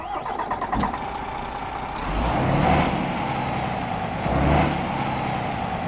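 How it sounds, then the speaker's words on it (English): A DAF XD truck's diesel engine in Euro Truck Simulator 2 cranks with a sharp click, then rumbles up in two surges before settling into a steady idle, alone and close. "let's get this DAF XD started up and get on the road"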